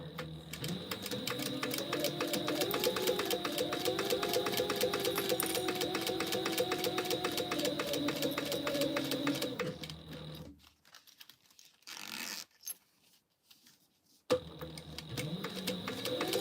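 A sewing machine stay stitching across the top of a sling bag, a fast steady mechanical whir with rapid ticking for about ten seconds, a pause with faint handling, then stitching starts again.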